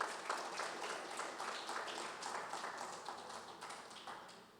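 A church congregation applauds through a sermon break with a dense, sustained patter of clapping that slowly fades.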